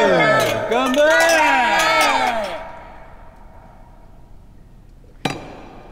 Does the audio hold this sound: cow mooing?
no